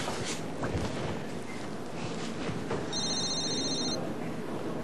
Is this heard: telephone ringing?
yes